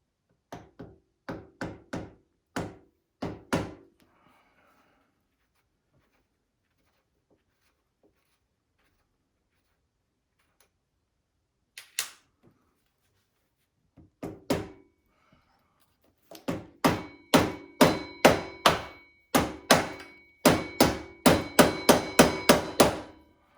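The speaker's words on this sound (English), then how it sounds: "I've got a little rubber mallet here." A small rubber mallet taps a handlebar end grip on a Yamaha FZ8 motorcycle, giving clusters of dull knocks: a few spaced blows, a long pause, then a quicker, louder run of repeated strikes.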